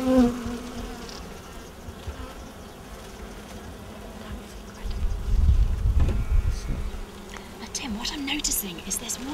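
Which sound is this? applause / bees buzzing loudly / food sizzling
bees buzzing loudly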